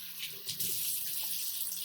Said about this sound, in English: let me wash my hands after I touch that